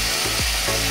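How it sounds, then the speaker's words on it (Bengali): Steady, loud sizzling fills the pan as a splash of water hits frying onions with turmeric, cumin and coriander powders, with a brief bubbling surge and no talk. "আর এর মধ্যে এই অবস্থায় দেবো সামান্য জল।"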